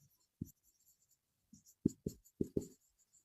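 Chalk or marker strokes on a classroom board during an English grammar lesson, a few quiet scratches followed by a quicker run of short taps and scrapes, close and isolated with no talking.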